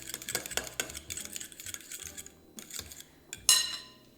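Vanilla and lemon zest being mixed into batter, a rapid run of close clicks and scrapes of a utensil against a bowl, a short pause, then a louder clatter.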